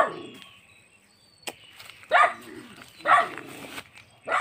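A dog barks three times at a steady pace, sharp and fairly close, with a faint tap and some quiet background noise in between.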